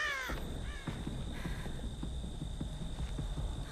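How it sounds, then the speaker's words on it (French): Crows cawing inside a video game, a couple of harsh calls at the start, fairly near, over a steady humming game ambience with scattered soft thuds. "Là, il a entendu un corbeau."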